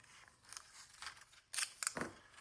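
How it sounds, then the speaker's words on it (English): Mint tape being pulled and pressed down onto paper for a scrapbook craft, a few short crisp tearing and snipping sounds up close and fairly quiet, growing a little louder toward the end. "I'm going to tape off the stuff"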